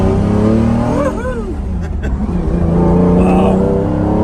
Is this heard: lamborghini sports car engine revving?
yes